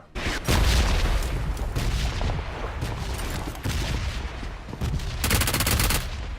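A water grenade goes off in a shooter video game's Aqua Man mode, with loud booming bursts and rapid gunfire-like cracks that flare sharply at the start and again near the end.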